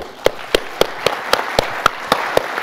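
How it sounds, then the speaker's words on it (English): Applause for panelists at a politics conference on China, heard as sparse, rhythmic claps spaced about a quarter second apart, sharp and close over a light background wash of clapping. "Please give them a round of applause."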